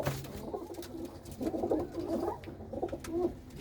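Pigeons of the Sai Ustad Sai Pakhi line coo in repeated low, throaty bursts at close range, with a pause between phrases and a faint murmur of other birds in the background.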